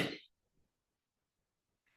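A single short cough from a man with a sore throat during a computer lecture, close and fairly faint, followed by near silence.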